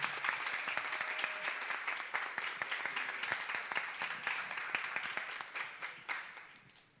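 An audience at a book presentation breaks into sustained applause, dense steady clapping that carries for several seconds before gradually thinning and fading out.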